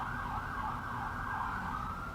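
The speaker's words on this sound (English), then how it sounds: "These sirens outside my window are going crazy right now." A wailing emergency siren rises and falls continuously, heard at a distance outside a window over low traffic rumble.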